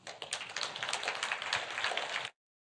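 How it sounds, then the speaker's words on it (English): An audience at an art museum conference bursts into a short round of applause, a dense patter of hand claps that runs for about two seconds before cutting off into silence. "Give a warm applause to Mette."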